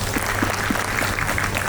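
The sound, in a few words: audience applause at a conference keynote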